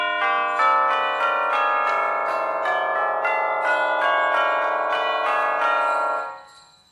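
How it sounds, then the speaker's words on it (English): Theatre sound effect of bells ringing violently in a stage production of A Christmas Carol, loud overlapping clangs struck in quick succession, sustained for several seconds before fading out. "he heard the violent ringing of bells"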